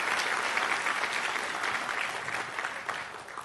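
Audience applause for Dr. Lammert at an autoimmune liver disease talk: steady, dense clapping from a crowd that holds evenly throughout and fades slightly toward the end, with no talk over it.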